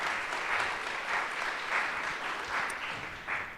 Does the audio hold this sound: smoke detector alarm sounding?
no